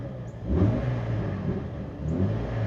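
A 2001 Jeep XJ with no oil pressure runs nearby, its engine idling with a steady low rumble and briefly swelling twice as it revs, with no one talking.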